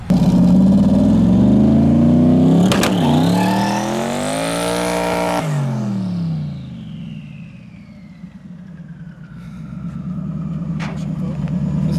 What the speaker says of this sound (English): do one more burnout in the puddle